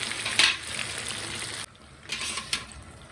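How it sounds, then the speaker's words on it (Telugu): Five or six chicken pieces fry in hot oil with a soft, steady hiss and crackle. The sizzle drops briefly partway through, then picks up again with a few sharper pops. "సింపుల్గా చికెన్ ఫ్రై అండి ఇది ఇలాగా కొన్ని కొన్ని ఒక ఐదారు పీసులు వేసుకొని వేయించుకోండి"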